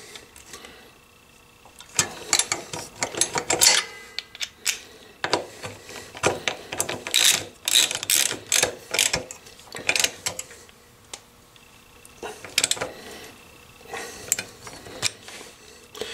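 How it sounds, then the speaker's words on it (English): An 8mm Allen key ratchets as it tightens the rear bolts of AltRider lower crash bars on a Honda Africa Twin CRF1000L, close bursts of rapid clicking with short pauses between runs and a few metallic clinks. "We got an 8mm Allen that we're going to tighten up the 2 rear bolts with."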